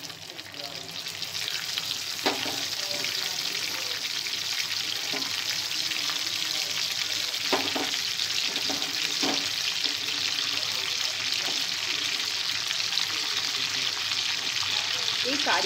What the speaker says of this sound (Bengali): তেলটা গরম হয়েই গেছে। কারি পাতা, সর্ষে আর কাঁচা লঙ্কাটা